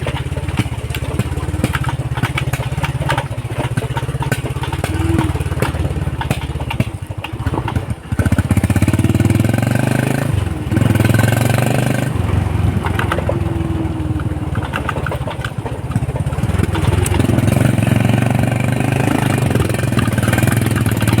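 Motorbike riding along a rural road, its engine droning steadily and loudly throughout, with wind rumble and brief dips in level.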